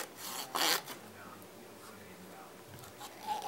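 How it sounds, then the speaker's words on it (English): Cotton swab rubbed over an NES game cartridge during cleaning, a close scratchy rasping with one louder burst of scrubbing near the start, then softer intermittent rubbing. "I'm just going to continue on rubbing it again"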